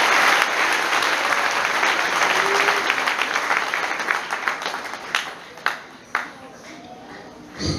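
Church congregation applauding during a Sunday service, dense clapping that fades after a few seconds into a handful of scattered claps, with faint voices underneath.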